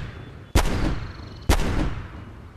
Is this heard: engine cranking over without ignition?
no